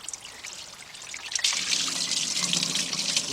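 Fluid from the engine of a GM truck or SUV undergoing water pump replacement splashes and trickles steadily into a catch pan, building from a light dribble to a fuller, continuous pour up close.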